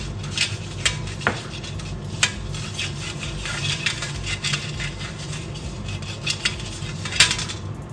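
Metal pizza tray set down in a home kitchen with oil poured in, a series of light metallic clinks and taps over a faint steady background hum, no talk.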